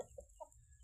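A very large, heavy championship-bred rooster clucks in two or three quick, soft, close notes over a low background hum.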